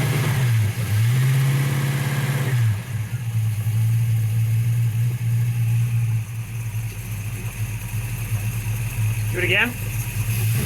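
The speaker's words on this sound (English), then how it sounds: "Step on the gas a little bit. Like rev it hard." Ford Mustang engine revved hard, with steady rising and falling revs over an idle drone. The car has a slight leak, someone speaks briefly, and a short high squeal comes near the end.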